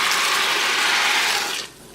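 A broad, close splash and gush of water fills a cooking pot as dry macaroni pasta is tipped in, loud and sustained before cutting off sharply into a faint hiss, with no voices.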